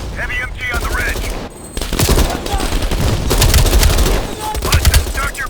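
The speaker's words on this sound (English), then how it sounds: "Heavy MG on the ridge." Sustained heavy machine gun fire in Call of Duty Black Ops Cold War, a loud rattling stream of rapid shots with brief pauses, mixed with battlefield noise and faint radio-style voices.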